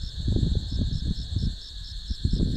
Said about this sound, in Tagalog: yan, yung tunog ng dahon ng pine trees at saka yung mga kulisap.